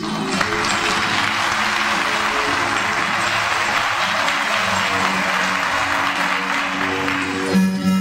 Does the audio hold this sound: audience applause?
yes